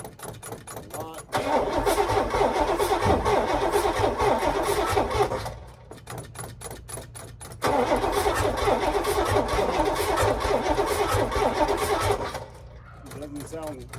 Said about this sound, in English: let's see if she'll fire up now